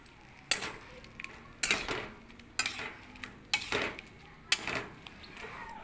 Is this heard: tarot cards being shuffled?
no